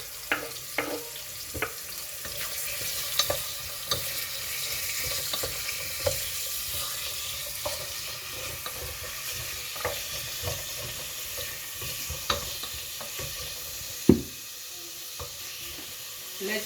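Onions, tomatoes and sliced pepper frying in a pan, giving a steady soft sizzle broken by frequent clinks and scrapes of stirring, all fairly quiet and with no talking.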